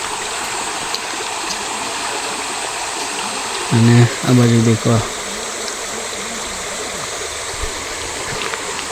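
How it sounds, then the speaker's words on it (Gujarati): Water flows in a forest stream near a rural temple in Jamuguda, Panchmahal, a constant close rushing hiss throughout, with someone speaking briefly over it midway. "અવાજ પાણીનો આવે છે, બતાવું તમને સંભળાતો પણ હશે"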